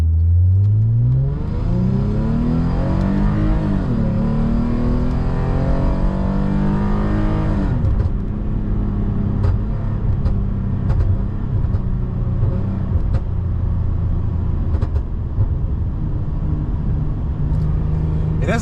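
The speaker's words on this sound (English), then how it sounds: "it does pop on downshift, but it's not like continuous or like anything roddy or crazy" A tuned Lexus IS250 with an M-Force exhaust revs up in a long climbing sweep, then drops off sharply. A loud rumbling drone follows, scattered with crackling pops as the engine winds down.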